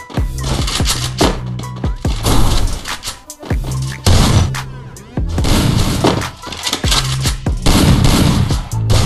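Gunfire in the Free Fire battle game, loud rapid bursts of shots with sharp cracks and impacts, fired in long volleys separated by brief pauses, with no talking.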